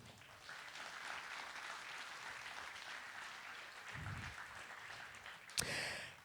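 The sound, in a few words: audience applause welcoming speaker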